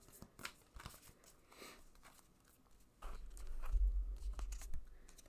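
Tarot cards are shuffled during a stream, giving soft, quick papery riffles and taps close by, with a low rumbling noise appearing under the shuffling partway through.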